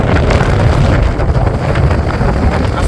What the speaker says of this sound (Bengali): আস্তে বাতাসের পরিমাণ বাড়ছে বৃষ্টির পরিমাণ বাড়ছে